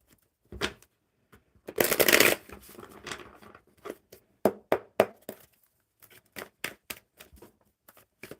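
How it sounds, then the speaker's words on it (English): Playing cards being shuffled close up: a long riffle burst, then a series of short, crisp flicks and taps at irregular intervals. "One more good shuffle."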